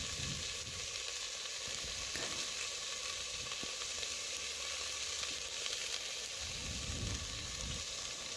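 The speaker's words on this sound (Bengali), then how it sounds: "দেখুন একটু ভালোভাবে মশলার সাথে সবজিগুলো আমি ভেজে নিচ্ছি।" Potatoes, green beans and carrots frying with salt and ginger, cumin and green chilli paste in a pan for vegetarian khichuri, a steady broadband sizzle throughout with low stirring scrapes and a few soft clinks.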